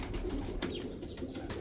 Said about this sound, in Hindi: तो पहला ये कबूतर मैंने अपने हाथ से पकड़ा हुआ है